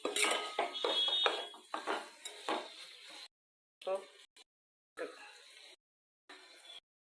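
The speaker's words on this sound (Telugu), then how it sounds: "మిల్ మేకర్ వేసుకోవాలండి. వేసేస్తున్నాం. బాగా మిక్స్ చేసుకోవాలి." Meal maker soya chunks are mixed with ginger garlic paste in a pot, with close metal spoon scrapes and clinks, busy at first, then short separate strokes broken by silent gaps.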